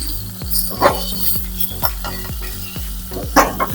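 Dried red byadgi chilies and curry leaves sizzle in hot tempering oil with cumin and mustard seeds, a steady crackling fry punctuated by sharp regular spoon taps against the pan, close and loud.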